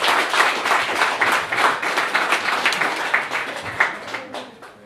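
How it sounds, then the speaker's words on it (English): Dense, steady applause from a press-conference crowd for two boxers at a Derry event, many hands clapping close together and fading slightly near the end. "Give them a big round of applause."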